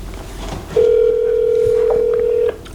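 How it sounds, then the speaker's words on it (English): A telephone dial tone holds steady for nearly two seconds, loud and close, with no voices over it. "let's get him on the phone. Let's see if he'll answer."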